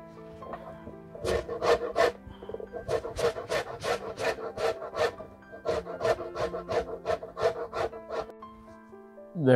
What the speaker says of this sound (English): we're going to start by zesting and then juicing a lemon.